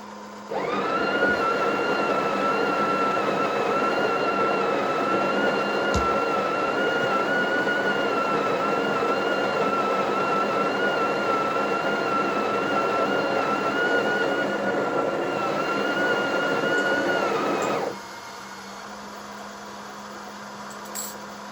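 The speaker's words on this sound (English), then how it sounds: "The machine will automatically dose, and it'll automatically press the coffee" Breville Oracle BES980BKS espresso machine grinding, dosing and tamping coffee on its own: a loud, steady motor whine with a sustained tonal hum runs close for about seventeen seconds, then cuts to quieter background with no speech.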